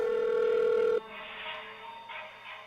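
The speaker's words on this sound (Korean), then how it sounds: "벨소리가 점점 더 크게 들리는 쪽으로 걸음을 옮겼어요" A mobile phone ringtone sounds loud and steady as a single sustained tone for about a second, then cuts off, leaving quieter background noise.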